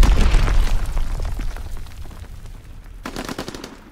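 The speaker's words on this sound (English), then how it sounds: "Incoming enemy artillery!" Enemy artillery explosions and rapid gunfire rumble in the video game Call of Duty WW2, a loud blast up front fading into scattered bursts and a fresh volley near the end, with no talk.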